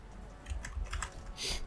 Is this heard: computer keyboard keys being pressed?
yes